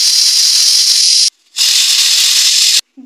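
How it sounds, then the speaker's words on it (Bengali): A pressure cooker on high flame, cooking a meat curry, lets out two loud, close, hissing steam whistles, each lasting over a second, separated by a brief silence. "এবারে প্রেসার কুকারের ঢাকনাটা লাগিয়ে 2 সিটি দিয়ে নেব।"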